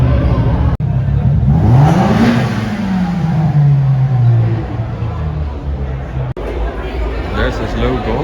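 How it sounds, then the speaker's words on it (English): Modified Mazda MX-5 using a two-step launch limiter in an underground parking garage at a car meet, a loud rising and falling engine rev with popping reverberating off concrete, crowd chatter around it. "there's this crazy MX-5 that was just two-stepping"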